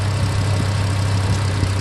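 A car with a stock 2.5 engine and stage 2 engine and transmission mounts idles in a steady, close low hum with faint irregular ticks, and no one speaks.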